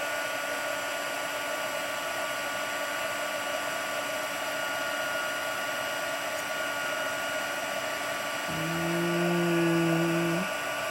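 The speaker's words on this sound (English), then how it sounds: "So now we'll heat emboss." A heat embossing tool blows hot air onto embossing powder with a loud, steady whirring drone, close by and unbroken, with a brief extra hum near the end.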